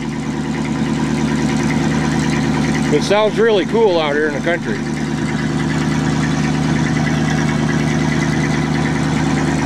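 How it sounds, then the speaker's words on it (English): A 1979 Dodge Palomino pickup truck idles on a straight exhaust out in the countryside, a loud, steady low rumble running throughout while someone speaks briefly partway through. "Right now it's running on a straight exhaust, so it's a little loud."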